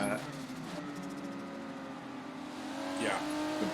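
Race car engine running at Brands Hatch circuit, a steady droning roar that swells slightly toward the end with a passing pitch sweep, set back under a continuous background of crowd or commentary noise.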